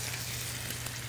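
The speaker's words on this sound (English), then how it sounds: "a nice sizzle sound. Put the scallops in with the seasoned side down" Seasoned scallops searing in a hot pan give a dense, steady, close sizzle with a faint low hum underneath, brief and unbroken.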